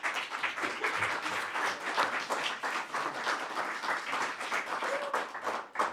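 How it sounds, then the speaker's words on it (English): An audience at a community TV station's annual meeting gives board members a steady, sustained round of applause, dense clapping continuing evenly throughout with no talk over it. "So I'd like everybody to give them a round of applause as well tonight."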